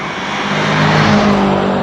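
A 2018 BMW M6 Gran Coupe at full throttle, its engine a loud, steady rising drone heard from inside the cabin and sustained without a break, with road and tire roar underneath.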